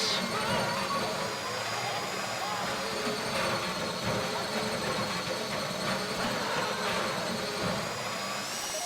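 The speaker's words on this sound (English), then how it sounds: "How you doing with that drill?" A drill bores into a safety deposit box during a Grand Theft Auto V heist, grinding and overheating in a loud, continuous mechanical whine that holds steady throughout with a dense, noisy roar underneath.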